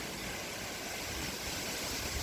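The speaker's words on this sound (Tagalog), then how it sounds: "Sobrang lakas ng ulan." Very heavy rain during a sudden storm in Australia pours down as a steady, dense roar of broadband hiss that does not let up. No voices are heard.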